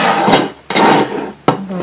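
Wooden canvas stretcher frame pieces being joined with a corner clamp: three sharp knocks and clacks of wood and metal close by, spaced roughly evenly with a fuller rattle between them, no talking.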